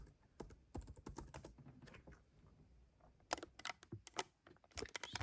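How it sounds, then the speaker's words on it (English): Password being typed on the keyboard of a 2012 MacBook Pro, with quick bursts of key clicks separated by short pauses, close and fairly quiet with no talking. "Let me just type my password again."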